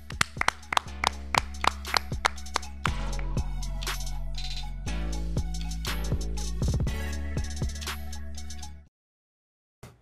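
Sharp, rhythmic clapping sounds punctuate a short music sting with ringing tones at the close of a football podcast, the claps crisp and close before cutting to silence.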